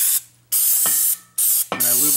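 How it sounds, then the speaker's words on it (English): Heavy-duty silicone spray applied to a brake caliper dust boot during a rear brake job on a 2005 Town & Country, heard as three loud, close hissing bursts with short quiet gaps between them. "then I usually get a little heavy-duty silicone spray"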